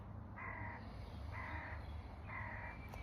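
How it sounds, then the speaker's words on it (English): A crow caws three times at an even pace, moderately distant, over a steady outdoor background hum. "Listening, hearing the crow."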